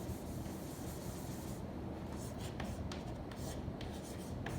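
Marker or chalk writing on a board while working out a calculus derivation, a soft continuous rubbing scratch over a low room hum, with short strokes toward the end; no talking.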